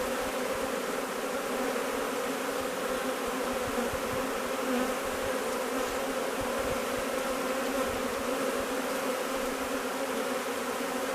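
A dense, steady drone of many honeybees buzzing continuously around a hive in spring, loud and close, with no pauses or voices.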